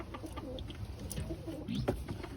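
A turtle dove gives soft, low, repeated cooing calls, faint and somewhat distant against a muffled background hum.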